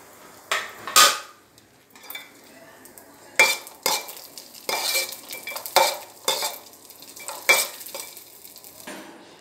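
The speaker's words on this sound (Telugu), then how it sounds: "కొంచెం ఆయిల్ వేసేసుకొని జీడిపప్పు, అలానే కిస్మిస్ చాలండి, ఈ రెండు చాలు." Cashews and raisins frying in a little oil in a pan while a semiya payasam is being made, with sharp intermittent clinks of a utensil stirring against the pan over a soft sizzle, close and fairly quiet.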